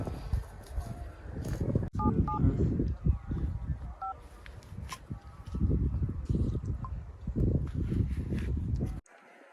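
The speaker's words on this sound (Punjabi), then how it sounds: "ਪਟਵਾਰੀ ਦਾ ਫੋਨ ਕਰੀ ਅੱਜ" A few short electronic keypad tones sound as a phone number is dialed, brief beeps in two quick clusters under people talking and heavy thumping movement nearby.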